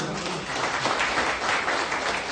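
Audience applause for Subash after his testimony, a steady, dense wash of clapping from a crowd that holds throughout at moderate loudness.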